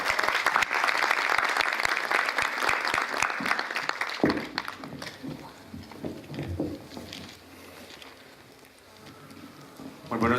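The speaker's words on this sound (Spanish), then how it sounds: "Un aplauso para recibir a los ponentes." Audience applause welcoming the speakers at a literary studies symposium: dense, loud clapping for about four seconds, then thinning into scattered claps and murmurs that fade out, with a brief burst of claps at the very end.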